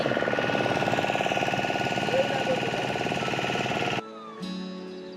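A boat engine idles and chugs with a rapid, even pulsing rhythm and a steady drone, fairly close, then cuts out abruptly near the end, leaving a brief lower hum.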